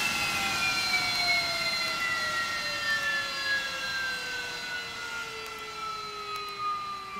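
AV-8B Harrier jet engines shutting down in DCS World, a steady high whine of several tones sliding slowly downward as the engines spool down, close and continuous with no talk.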